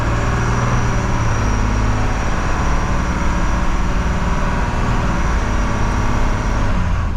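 A 1980s Dennis DS fire engine drives along a lane, its engine droning steadily with a low rumble and constant road noise throughout, loud and close with no talking.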